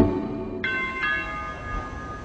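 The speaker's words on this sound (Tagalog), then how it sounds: "May nagdo-doorbell?" A two-tone electronic doorbell chime rings once, ding then dong, clear and fairly close, over a quiet room hum.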